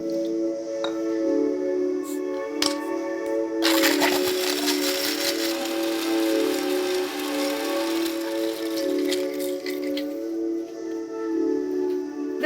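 A kitchen mixer grinder grinding masala, its motor giving a loud, steady whine, joined after a few seconds by a rough, rushing churn of spices that carries on to the end.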